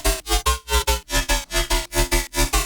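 A saturated, EQ'd synth bass patch from Serum plays a punchy, rhythmic pattern of about a dozen evenly spaced, buzzy notes with a heavy low end, loud and alone.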